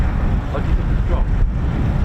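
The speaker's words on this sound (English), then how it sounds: "It's a bit windy." Gusty wind at the RAF Coningsby airfield buffets the microphone in a loud, continuous low rumble with rising and falling surges.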